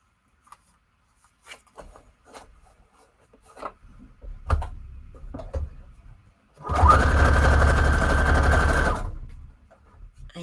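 A sewing machine runs a straight stitch through paper in one steady two-second burst, preceded by scattered rustling and handling of the paper.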